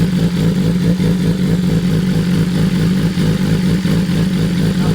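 BMW M1000R motorcycle engine running steadily with a clear clutch cover fitted, the clutch spinning with a dense, even mechanical drone and faint clatter throughout, close and loud with no talk.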